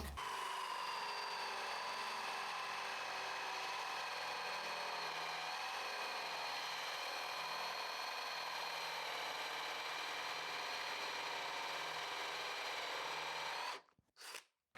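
A DeWALT DCD708 18V cordless drill-driver runs steadily for about fourteen seconds, a loud continuous whine with bright tonal harmonics, then cuts off abruptly near the end.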